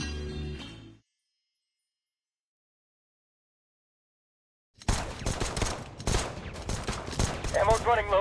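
Gunfire in the video game Reverse: 1999 breaks out after a few seconds of silence: loud, dense bursts of shots that crack and rattle steadily to the end.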